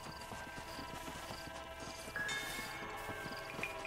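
Horse hooves clip-clopping at a steady walking rhythm in the western video game Red Dead Redemption, quiet and close, with faint ambient game tones beneath.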